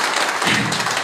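A seminar audience in Gorakhpur claps, a brief, loud, dense burst of applause filling the room, with no talking over it.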